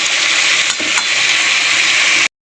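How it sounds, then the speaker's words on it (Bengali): Vegetables fry in a pan, a steady loud sizzle that holds without a break for about two seconds, with a faint clink or two near the start, before cutting off abruptly. "আর একটু ভাজা ভাজা করে নেবো সবজিটা।"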